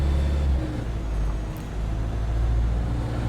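A Wright StreetDeck double-decker bus in OMSI 2 rumbles past with a deep, steady engine drone and road noise, loud and close throughout.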